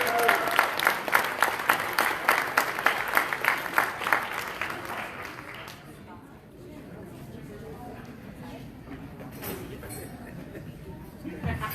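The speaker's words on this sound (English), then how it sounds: "Big round of applause for Junior." Gala audience applause for an honoree, rhythmic unison clapping for about six seconds that then fades into murmuring chatter and light room noise, with a few scattered claps near the end.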